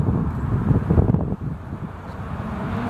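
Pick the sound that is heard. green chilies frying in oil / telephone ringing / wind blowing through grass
wind blowing through grass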